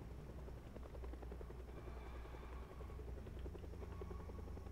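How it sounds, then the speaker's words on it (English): A helicopter in the video game Project Zomboid, its rotor chop a faint, steady low thudding that drones on throughout at a distance, with no talk over it. "Sounds like the chopper went a bit away"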